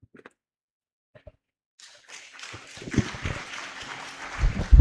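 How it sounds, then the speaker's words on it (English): An audience at a business education workshop breaks into hand clapping after a few faint taps, and the applause builds from scattered claps to a fuller round that grows louder at the end. "Can we give him a better hand clap, please?"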